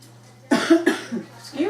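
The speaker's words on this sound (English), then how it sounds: "I got a little cough." A man's short cough bursts out close by in a home kitchen while he cooks beef stroganoff, a few rough coughs in quick succession over a steady low hum.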